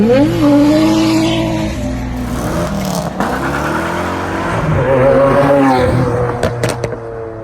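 A loud, raspy Datsun 280ZX exhaust with no muffler roars close by as the engine revs up and settles, harsh and unmuffled, with a few sharp pops near the end.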